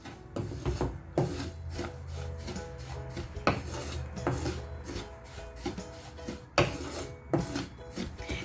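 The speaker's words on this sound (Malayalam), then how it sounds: "ഇനി ഇതിലേക്ക് റവ ചേർത്ത് കൊടുക്കാം." Semolina scraped and stirred into hot ghee in a pan for cashew burfi, a steady dry rasping with sharp utensil knocks against the metal, close and alone.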